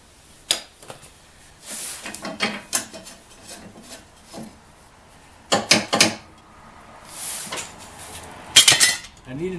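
A breaker bar with socket on a Troy-Bilt 42X mower with Troy-Bilt engine, working loose the blade: scattered metallic clanks, scrapes and ratcheting clicks in irregular bursts, close and fairly loud, with quiet gaps between.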